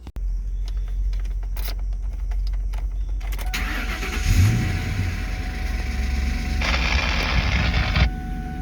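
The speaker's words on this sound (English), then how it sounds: "Got this thing jumped, but she fired right up." A 2002 Ford Mustang GT V8 cranks and catches after a jump start, then settles into a loud, rough idle and revs up briefly near the end, with no one talking.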